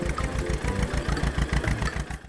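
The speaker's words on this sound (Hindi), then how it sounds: "पवन का ट्रैक्टर हवा से बातें कर रहा था।" A tractor engine drives at speed with a steady, pulsing low chug that repeats rapidly and evenly, loud and close throughout with no voices.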